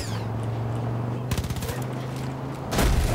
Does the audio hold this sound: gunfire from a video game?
yes